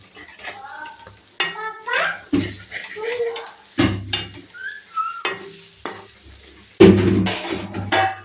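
Rohu fish paturi wrapped in pumpkin leaves being stirred in a pan at home, giving soft scraping clatters over a gentle sizzle, with someone talking throughout.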